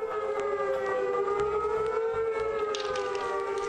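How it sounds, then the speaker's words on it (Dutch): A bunker alarm siren wails steadily at a military base in Afghanistan, one continuous loud rising-and-holding tone with no voices over it. "Bunkeralarm."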